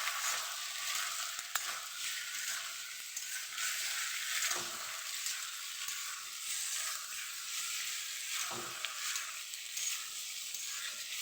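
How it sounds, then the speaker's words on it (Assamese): Potatoes and vegetables sizzle and hiss steadily in a hot pan with salt added, a continuous bright frying crackle broken by a few soft scraping stirs. "চব্জিটো মই এতিয়া লাৰি আছোঁ, আলুটো মই এতিয়া নিমখ দি দিছোঁ,"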